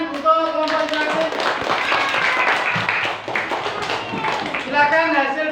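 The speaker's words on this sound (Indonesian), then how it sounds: "Beri tepuk tangan untuk kelompok interaktif." A classroom group of students claps for a fellow student team, a steady patter of hand claps with a teacher's voice speaking over parts of it.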